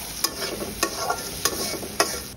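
Onions frying with salt in a pan on a home stove, a continuous close sizzle punctuated by four evenly spaced sharp scrapes or taps of a spatula against the pan.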